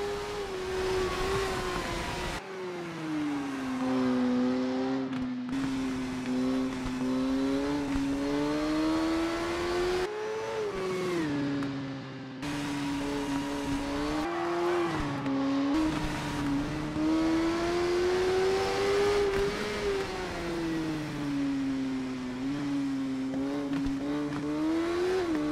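Race motorbike engines in the TT Isle of Man video game wail continuously at high revs, pitch sweeping up and down through gear changes and brief cuts, loud and sustained without any talk.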